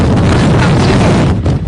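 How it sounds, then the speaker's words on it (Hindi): Strong cyclone winds roar steadily across the microphone during a storm striking eastern India, a loud, continuous buffeting rush with no break, dipping only slightly near the end. "जितनी तेज हवाएं चल रही हैं वो डराने वाली हैं"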